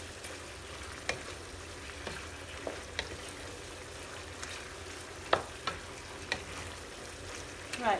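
Chicken and rice frying in a pan while being stirred, a steady soft sizzle with scattered scraping clicks from the utensil, close and fairly quiet.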